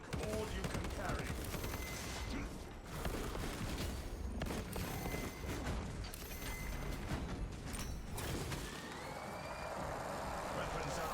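Rapid volleys of gunfire in a shooter video game, dense and continuous with mechanical clatter and heavy rumble, alongside a voice speaking.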